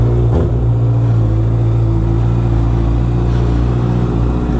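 Honda CBR650R motorcycle engine running close and loud, a deep steady rumbling idle with a slight rise in pitch near the start.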